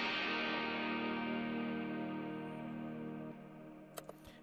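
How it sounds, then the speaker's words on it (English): A sustained electric guitar chord rings out, washed in echoing repeats and lush reverb, slowly decaying before a few quick plucked notes. "the delay and the reverb put together, you get a slight movement of the sound"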